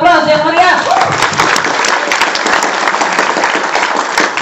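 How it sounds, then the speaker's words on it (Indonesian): Loud audience applause fills a stage performance hall, dense and sustained clapping throughout, with a brief voice over the start before the clapping swells. "kita kasih aplaus yang meriah"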